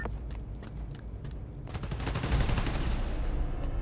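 Gunfire in the Spider-Man Miles Morales video game, scattered shots at first, then a denser burst of rapid automatic fire that grows louder toward the end.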